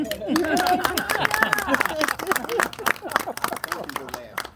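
An audience at a tribute gathering claps for Miss Tanya Jean, a dense patter of hand claps running throughout, mixed with crowd chatter and a voice speaking over it.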